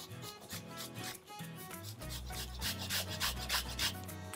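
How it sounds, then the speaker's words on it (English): Fresh ginger is rubbed against a grater in short, rapid scraping strokes, close and fairly quiet, for a gluten-free, dairy-free butternut squash curry sauce, with no speech over it. "so a good amount of grated ginger"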